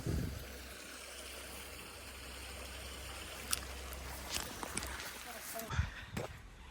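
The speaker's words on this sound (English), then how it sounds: "We do have this nice little creek crossing right here" Small creek flowing at a crossing on a hot springs trail, a soft steady rushing wash with a few brief louder splashes or steps toward the end.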